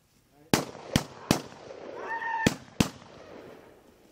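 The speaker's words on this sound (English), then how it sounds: "shots fired. Shots fired." Five sharp gunshots ring out during a police encounter in quick, uneven succession, the first three closely spaced and the last two after a brief gap, loud and close amid faint background noise and a short shout.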